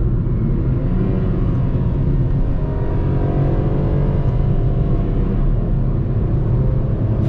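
Renault Kwid 1.0 manual 2024 hatchback driven on an open road, heard from inside as a loud, steady low engine drone with road rumble, the engine note rising gently, with no talking.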